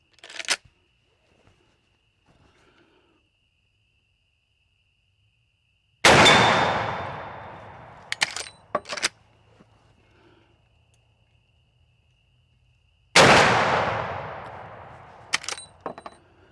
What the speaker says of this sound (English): that last one was a clean miss, but we got 3 shots on steel